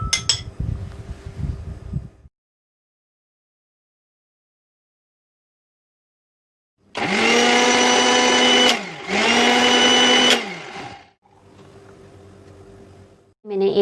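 An electric blender whirs through aloe vera gel and water in two loud bursts of roughly two seconds each, separated by a short pause, after a stretch of silence and some faint handling noise.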